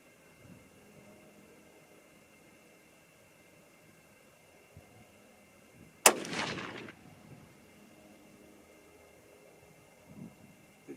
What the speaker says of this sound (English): here we go with the second shot